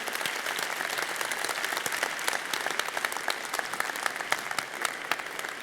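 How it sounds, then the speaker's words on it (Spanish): An audience claps steadily, a dense sustained patter of many hands at moderate volume, with no voices over it. "permítanme que pida un aplauso para Fernando de Pablos"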